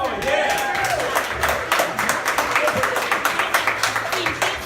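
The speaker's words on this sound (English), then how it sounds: "Can we give Penny a round of applause?" A comedy competition crowd at Rita's Roost breaks into brisk, steady clapping for a first-time comedian, with cheering voices and talk mixed into the applause.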